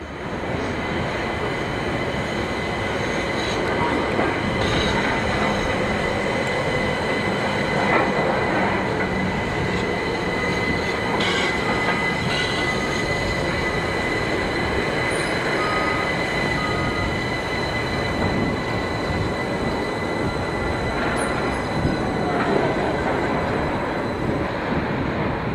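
A third-rail DC electric multiple unit train running through southern England, a loud continuous rumble of wheels on track with occasional squeals and clatter, sustained close by without talk.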